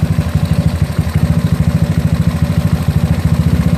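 A GY6 scooter engine fitted with an OKO PWK 30mm carburetor idles close up, a loud, steady, low putter with a fast regular pulse and a slight clatter throughout, and no talking.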